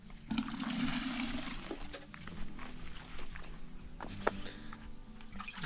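Water being drawn from a well in a rural Philippine province: sloshing, splashing and pouring run continuously at close range with occasional clunks and knocks, no talking.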